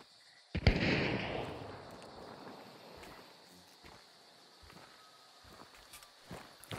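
A single shotgun blast in the video game Hunt: Showdown, loud and close, with a decaying boom, followed by quieter scattered footsteps and small impacts and no talk.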